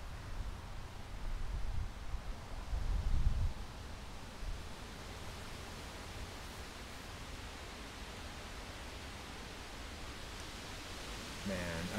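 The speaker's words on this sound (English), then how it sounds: "I don't know if you guys can hear the wind." Wind ahead of an approaching storm buffets outdoors, with low gusty rumbling at first that settles into a steady broad hiss, and a brief voice near the end.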